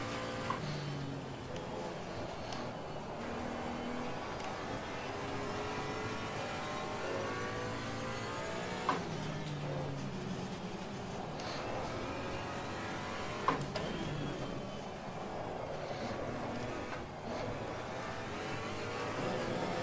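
A Porsche Cayman GT4 laps the Barcelona circuit, its engine rising and falling steadily through gear changes in close, continuous onboard sound, with a couple of brief sharp knocks.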